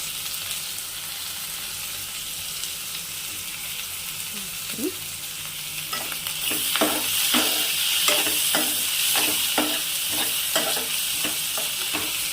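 Onions and curry leaves for mutton biryani fry in a pan, a steady soft sizzle that brightens midway as a spoon starts stirring and scraping in a quick repeated rhythm, close and unaccompanied by talk.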